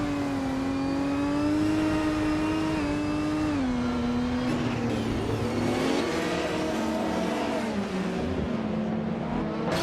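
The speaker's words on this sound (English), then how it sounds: "driving a classic 1995 McLaren F1 GTR in the Retro GT 500 class" A 1995 McLaren F1 GTR race car in a racing video game, its engine a steady, loud whining drone that rises and dips in pitch as it accelerates and shifts, with no talk over it.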